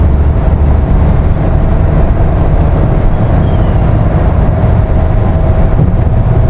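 A Kia Syros turbo petrol car cruising at highway speed gives off a steady, loud cabin drone of engine, road and wind noise without distinct gear-change breaks.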